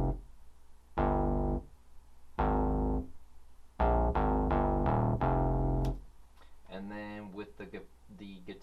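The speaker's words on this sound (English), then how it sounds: "I just used another synth bass from Nautilus 2, which is like a square bass" Square-wave synth bass from Nautilus 2 playing a line of short, separated notes in a steady pattern, then fainter fluttering tones near the end; fairly quiet and alone.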